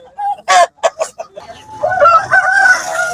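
A rooster crows loudly nearby at a busy market in Kunnathur, preceded by a few sharp clucks, with its drawn-out call filling the rest of the moment.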